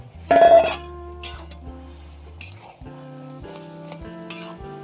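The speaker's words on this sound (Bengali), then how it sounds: "একটু নাড়াচাড়া আবার করে আবার একটু ঢেকে দেবো" Bottle gourd and prawns stirred in a pan, a loud opening clatter of a spatula on metal followed by scraping and light clinks over a low sizzle, close by with no voices.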